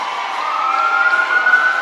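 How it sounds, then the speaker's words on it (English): Police sirens from escort vehicles entering an indoor ice hockey arena during a first responders appreciation night, a steady wailing tone that fills the rink, loud and continuous with arena reverberation. "the police sirens and escort vehicles make their way"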